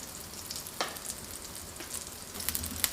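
Layered flatbread dough fries in hot oil with a continuous soft sizzle, crackling pops rising and falling in the pan, no voices.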